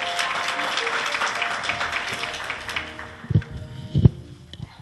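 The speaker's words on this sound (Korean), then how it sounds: "박수로 맞이해 주십시오." An audience claps to welcome a speaker at a 2012 forum on culture, arts and corporate value. Steady applause fades after a few seconds, followed by a couple of close, heavy footsteps.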